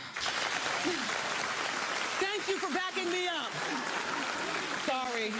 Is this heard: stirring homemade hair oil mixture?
no